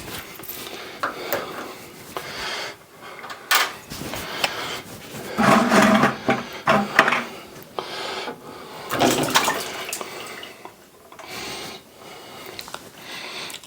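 A Navien tankless water heater filter is rinsed in a laundry sink, with irregular bursts of running, splashing water and occasional handling clatter, close by and without talk.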